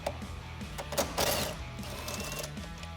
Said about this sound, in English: So we can take that same socket and remove that.